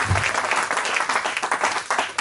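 Congregation at a French-language church sermon bursts into sustained applause, dense and continuous clapping from many hands filling the room at close range.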